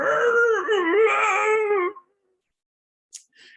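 A person imitates the loud mating cry of a male goat, a long wavering bleating yell lasting about two seconds, followed by silence and a couple of faint high clicks.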